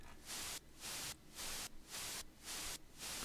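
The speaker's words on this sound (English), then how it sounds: "Oh, except for this white noise pump. This is just a little extra noise thing that I add under a lot of these EDM productions." A white noise pump effect rises and ducks in a steady rhythmic pulse, about six swells of hissing static, sitting as a layer under an EDM production.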